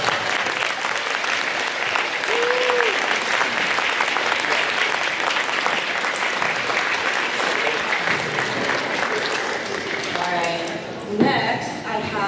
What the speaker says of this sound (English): Go ahead and give them all a round of applause.